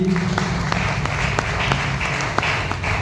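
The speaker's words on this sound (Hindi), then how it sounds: "मैं चाहूँगा सर के लिए भी एक जोरदार ताली" An audience at a business success-stories event gives loud applause for a man running the system, a sustained wash of many hands with sharp individual claps standing out.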